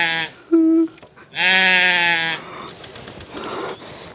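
A goat bleats twice close by: a short, nasal cry, then a longer, wavering bleat, both loud and clear with faint background noise between them.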